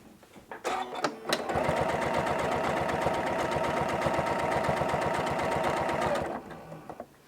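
A Janome CM17 sewing machine runs a straight utility stitch, giving a close, steady mechanical whir with a rapid needle rhythm for about five seconds, framed by a few brief clicks before and after.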